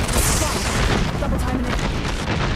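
Incoming gunfire in the Apex Legends shooter game, a dense, loud barrage of booming shots and impacts that runs without a break through the whole stretch, with no clear gaps between bursts.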